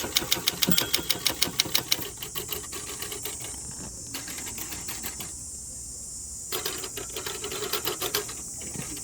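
A 1960 Olympia SG-1 manual typewriter being typed on outdoors, with a fast run of sharp, close key strikes at the start, then sparser clacks and mechanical clicks over steady background hiss.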